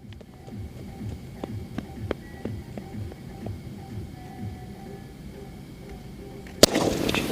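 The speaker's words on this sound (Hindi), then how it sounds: "और ये चल रहा हमारा वाडीवेल वाला स्काई शॉट।" A sky shot firework fires off a series of sharp pops and thuds at irregular intervals over a low hum, ending in one loud crack followed by a noisy burst.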